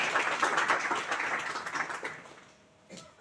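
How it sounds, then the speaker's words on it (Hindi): An audience at a water conservation event claps to welcome guests, a moderate burst of applause that fades out over a few seconds, followed by a lone faint sound. "हम हृदय से ताली बजाकर उनका स्वागत करें।"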